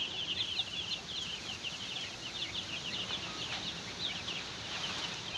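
Brown Dekalb chickens, a small group of young birds about 45 days old, chirp and cluck faintly in a busy chorus of short repeated peeps over a soft background rustle.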